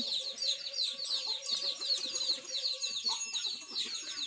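Chickens cluck and chirp in a dense, steady chorus on a small self-sufficient village farm in Ban Na Hua Kham, where ducks, cattle and buffalo are also kept. The calls are close, busy and continuous, with no talk.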